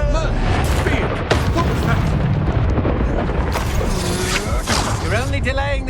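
Exploso spell blasts in the Hogwarts Legacy video game boom loudly through dense, continuous battle effects, while a voice shouts over the chaos.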